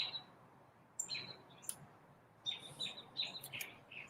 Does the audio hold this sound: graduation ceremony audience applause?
no